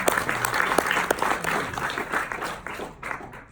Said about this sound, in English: Let's everybody give a round of applause.